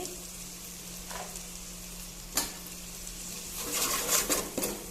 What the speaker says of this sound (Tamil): தக்காளி வந்து நல்லா பச்சை வாசனை போய் வெந்து வர அளவுக்கு வதக்கிக்கலாம்